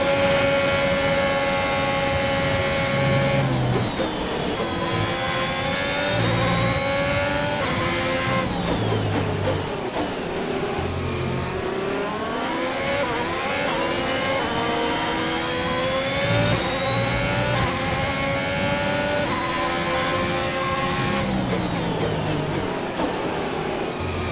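F1 race car engine from the F1 2021 game at Portimão, a steady high-pitched whine that climbs and drops through gear changes and braking across the final lap, loud and continuous with no talk.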